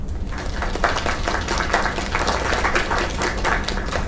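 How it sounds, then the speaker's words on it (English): An audience in the video game Lake claps for the singer Kay, a steady, dense round of applause that fills the space evenly throughout. "Another round of applause."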